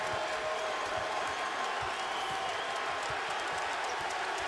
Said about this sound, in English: And the crowd on its feet here at the American Airlines Center.